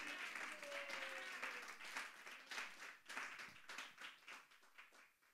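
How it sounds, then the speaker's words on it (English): A church congregation claps steadily throughout, a dense wash of hands with some individual claps standing out and swelling in waves, with faint voices mixed underneath. "Let's give a big hand of applause to him."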